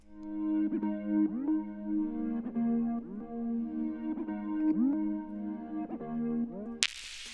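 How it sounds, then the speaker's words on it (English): A Serum synth pad preset called Misled, from the Fragments pack by Prod Ghoul, plays sustained chords with gliding pitch bends, steady and close for about seven seconds before a brief noisy burst at the end; no one speaks. "The next sound I added was a pad out of Serum, also out of Fragments by Prod Ghoul."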